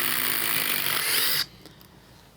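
DeWalt and Makita impact drivers run in reverse together, a loud, close, high mechanical whine that cuts off abruptly midway and leaves quiet room noise, then a single sharp click near the end.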